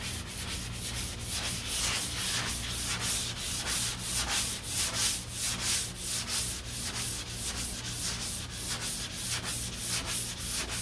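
Hand sanding on the deck lid of a 1969 C3 Corvette: steady rhythmic back-and-forth scratching strokes, roughly two per second, close and even, with a low hum underneath.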